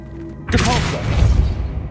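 A Depulso force spell from Hogwarts Legacy is cast with a sudden loud burst, followed by a rumbling, crashing impact that keeps roaring for over a second.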